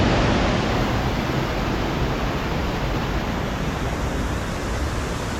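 Lakshapana waterfall in Sri Lanka roars as a steady, loud, broadband rush of falling water, constant and unbroken with no voices.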